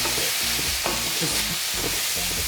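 Roasted red pepper hitting a hot pan with mushrooms and garlic, a loud, dense, continuous sizzle with bursts of stirring, heard up close without speech.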